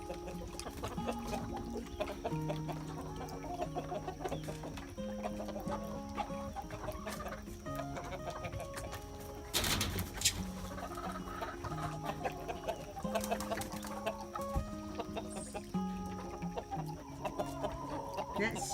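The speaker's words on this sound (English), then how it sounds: "The chickens know that I am coming to feed them." Chickens in a coop waiting to be fed, many birds clucking and chattering steadily at close range, with a louder burst of squawking midway and a small rooster among them.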